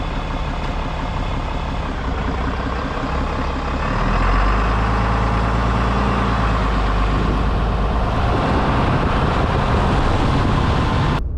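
A 2020 Ram 2500 Laramie Night Edition heavy-duty pickup pulls away: a low, rumbling engine idle swells into a louder, fuller drone a few seconds in and holds steady as the truck gets moving.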